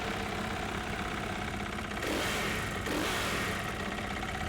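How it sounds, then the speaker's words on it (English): A KTM 450 motorbike engine in The Crew Motorfest racing game, droning steadily and loudly with two brief revs rising out of the continuous roar, no talking. "Now that is the sound of a KTM 450 motorbike that you can actually play in the game"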